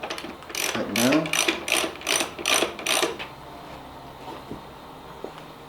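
A ratchet tightens the axle nut on a Royal Enfield Continental GT or Interceptor motorcycle. About seven quick, loud, close clicking strokes run for roughly three seconds, then stop and leave a quiet room.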